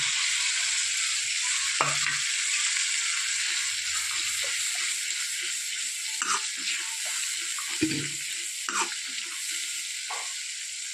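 Ivy gourd curry with chana dal gets mixed in a pan over low heat, with a soft continuous sizzle and a few scattered spoon scrapes and taps close up, no talking.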